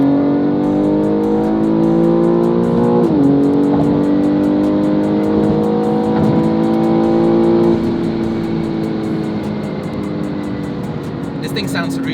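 A BMW M3 G80 xDrive with JB4 tune turned off (map 0) revs up hard through the gears, a rising roar that drops and climbs again at each shift, loud and close from inside.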